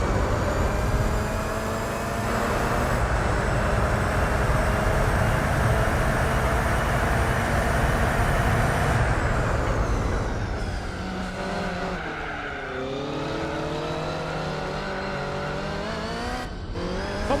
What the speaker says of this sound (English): The sound of the engines in chorus.